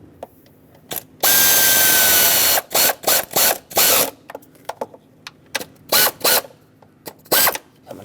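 T30 screws being driven into a 2003-2009 Dodge Ram 2500 5.7L V8 intake manifold, cutting their own threads: a long loud whirring burst from a power driver, then repeated short bursts and clicks, up close with no talk.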